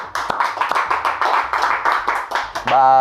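A small group claps in an indoor gathering, with quick, uneven, close-up hand claps in a steady burst while a voice speaks over them.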